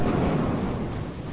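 Thunder from a lightning strike in the video game Lethal Company, a dense, loud rumble that fills the whole moment and stays close and heavy throughout.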